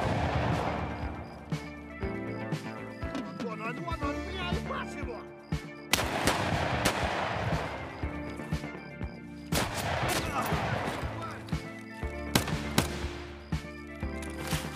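Gunfire in the video game Escape From Tarkov: loud, sharp shots come in separate bursts, with heavy reports near 6, 9.5 and 12.5 seconds, over a busy, layered in-game soundscape.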